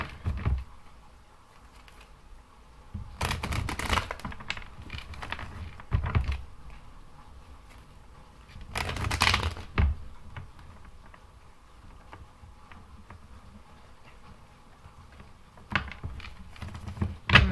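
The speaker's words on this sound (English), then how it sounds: "Some more good shuffles for my Aries." Tarot cards are shuffled in a few soft, riffling bursts, with quieter tapping and handling between them.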